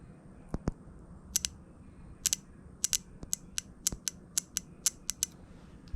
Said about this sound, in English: This thing's clicking. It's a solenoid.